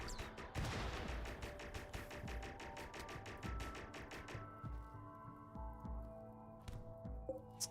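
Rapid bursts of gunfire in the colony game RimWorld, a dense volley of sharp repeated shots for the first few seconds, then thinning to scattered single reports over a low ambient hum.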